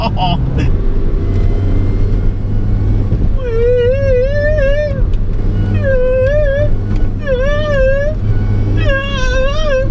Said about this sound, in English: And you rev it right round into the next gear.